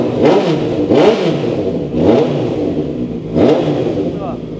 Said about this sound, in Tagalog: Soundcheck naman natin itong CB650R. Naka-XL exhaust.